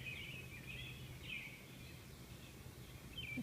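Faint bird calls chirp intermittently in a quiet backyard garden in fine weather, with soft high twittering over a low steady background hum and no talking.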